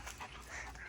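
A pet puppy whimpers softly in a short, low-level burst of whining, close by in a quiet room, with no talking over it.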